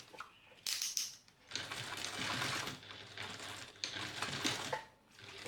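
A sewing machine stitching fabric with a 3/8 inch seam while a compact crossbody bag is made, heard as close, rattly mechanical bursts that start and stop several times with brief pauses.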